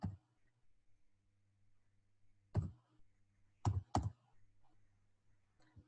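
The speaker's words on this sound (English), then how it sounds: "Can you see as I'm typing M trading" Keys on a computer keyboard tapped while typing a search into MT4 trading software, a few sharp clicks in small clusters over a steady low hum.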